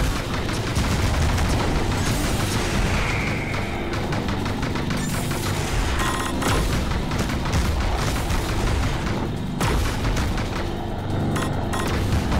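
Dense, continuous barrage of explosions and gunfire from the Panzer Dragoon Remake video game, loud booms and rapid blasts layered thickly throughout with no let-up.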